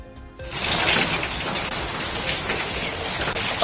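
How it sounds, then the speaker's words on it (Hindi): Heavy monsoon rain pounds down in Mumbai, starting abruptly after a brief quiet moment and then roaring as a loud, continuous, close wash of rainfall. "मुंबई में बारिश ने कहर बर्पा किया हुआ है"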